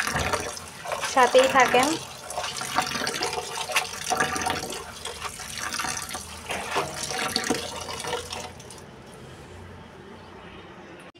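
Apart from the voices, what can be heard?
tap water running while washing red amaranth leaves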